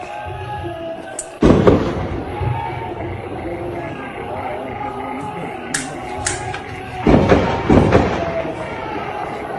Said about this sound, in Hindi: ये आवाजें पाकिस्तान की सेना की ओर से की जा रही गोलीबारी की है।